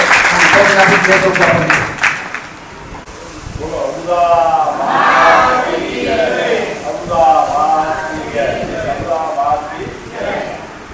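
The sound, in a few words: audience applause welcoming a trustee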